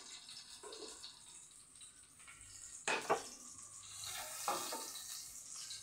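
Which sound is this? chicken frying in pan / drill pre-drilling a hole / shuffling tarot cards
chicken frying in pan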